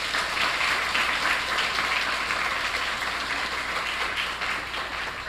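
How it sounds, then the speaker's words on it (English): Applause from an audience after an intern's testimonial, a steady wash of clapping held at moderate loudness throughout and slowly thinning toward the end, with no talk over it. "Another round of applause for Simeon."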